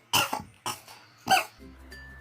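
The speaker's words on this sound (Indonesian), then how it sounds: "Batuk, bos." Three sharp, close coughs from a person, spaced irregularly with short silences between them, followed by a faint low hum.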